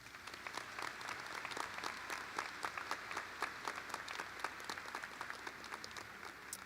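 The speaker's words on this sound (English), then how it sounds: "Graduates and guests, please give the entire team at Seckman one last round of applause." A graduation audience at Seckman High School claps steadily for the school staff, a dense, even round of applause from a large crowd heard at some distance, with no voices over it.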